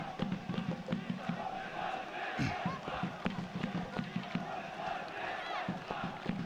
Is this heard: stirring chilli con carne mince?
no